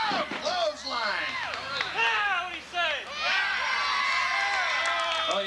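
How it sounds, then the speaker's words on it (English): Wrestling crowd at a Thrillseekers tag match with Jamie Noble, dense and loud, with shrill children's shouts and whoops rising in steady waves across the whole stretch. "Oh yeah, the crowd's getting into it now."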